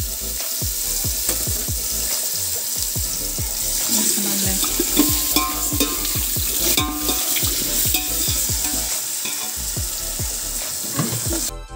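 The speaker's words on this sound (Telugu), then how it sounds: "అండ్ గ్రీన్ చిల్లీస్ కూడా యాడ్ చేసుకొని బాగా వేపనియాలి" Steady sizzling of green chillies and ginger-garlic paste frying in a pan, with a spoon repeatedly scraping and stirring throughout; no talking.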